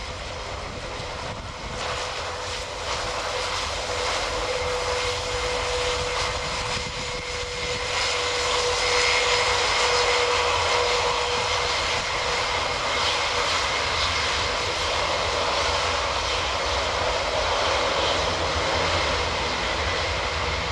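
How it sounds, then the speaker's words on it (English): An Airbus A400M's engines roar steadily through an air display manoeuvre at an air show, a broad loud drone with a faint whine that swells slightly louder midway, heard from the ground with no talk. "Aircraft entering the final manoeuvre of this sparkling display as he positions."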